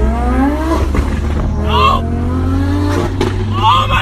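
A BMW F900R motorcycle fitted with an Arrow exhaust runs loud and close on a winter ride, its engine note rising and falling through revs with whining pitch sweeps, while riders talk over it.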